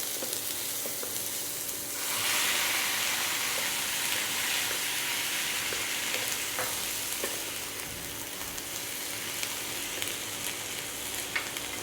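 Tomatoes frying in a pan over a medium-high flame, a steady dense sizzle that swells louder after two seconds and runs continuously with faint crackles and stirring, no voices.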